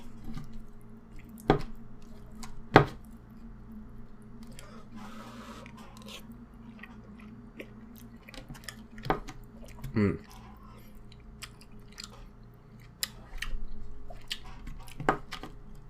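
Someone eats Korean curry close to the microphone, with soft wet chewing and squishing, occasional sharp clicks and drips, and quiet pauses between bites.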